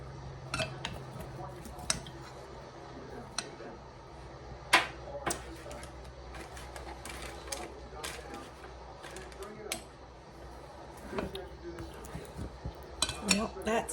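Spoons clink against a pan while scooping clumps of chocolate-covered walnuts, with soft scraping and scattered taps under quiet talk.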